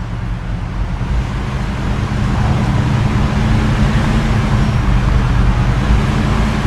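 A car driving fast in the video game Mafia II, a steady loud engine drone and road rumble that builds slightly and holds, with no talking over it.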